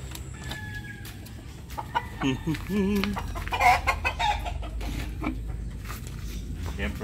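Hens cluck and murmur nearby in short irregular bursts at feeding time, with a voice speaking among the birds' chatter.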